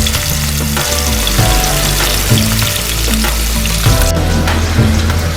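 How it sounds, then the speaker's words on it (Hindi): Chapli kebabs frying in hot oil for an Eid dinner, a loud, steady, close sizzle that crackles continuously throughout with no talking. "ये बन रहे हैं चपटी कबाब, फरकान बना रहे हैं मज़े की चपटी कबाब।"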